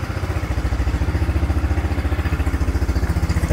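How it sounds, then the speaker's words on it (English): Mikilon Hammer R3 200L motorcycle exhaust idling close by, a steady low, even pulsing putter with no talk over it. "Exhaust not too loud too, so it's perfect."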